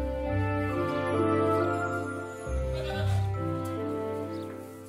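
Goats bleating loudly and continuously at close range, long wavering cries overlapping one another with no talk.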